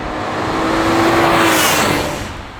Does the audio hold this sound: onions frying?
no